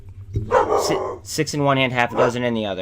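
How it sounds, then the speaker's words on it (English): A pet dog barks and yips close to the microphone in several quick bursts, overlapping someone talking. "Sorry about my dog."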